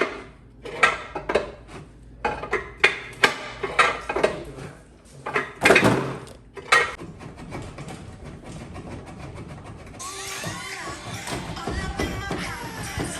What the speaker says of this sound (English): I've got a crowbar and I'm gonna see how this works